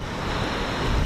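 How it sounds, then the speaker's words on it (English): Mississippi River near St. Anthony Falls in Minnesota, a steady broadband rush of flowing water that holds even and full for about a second, with a slight swell toward the end and no voices. "if you can hear that in the background,"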